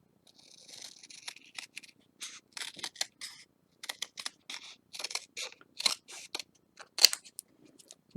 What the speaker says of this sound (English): Scissors come in really handy if you want to cut.